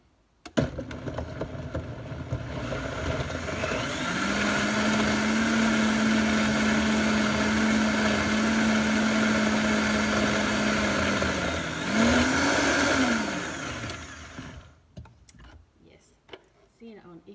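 A blender starts and runs blending a red detox smoothie, a loud steady whir with a high motor whine holding for several seconds, a brief surge near the end, then cutting off to quiet clatter.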